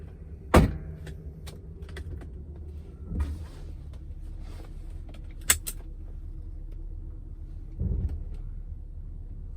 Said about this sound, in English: I wanted to show you guys just some driving of the car